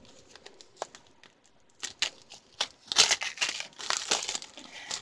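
Plastic packaging holding cord ends is cut open with a utensil, giving faint scattered crinkles and snips that grow into louder, busier rustling and crackling near the end.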